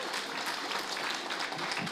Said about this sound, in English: Come on, let's give them a hand.